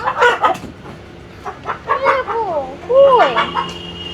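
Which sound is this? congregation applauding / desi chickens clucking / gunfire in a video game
desi chickens clucking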